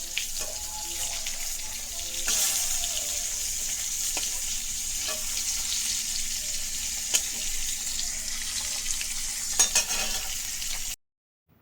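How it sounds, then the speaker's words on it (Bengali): Large fish pieces frying with green chillies in a pan make a continuous hissing sizzle for about eleven seconds, broken by occasional clinks and scrapes, then cut off abruptly with no one talking. "বন্ধুরা এখানে মাছ ভাজতে দিয়েছি খাওয়ার সময় গরম গরম মাছ খেতে ভালো লাগে"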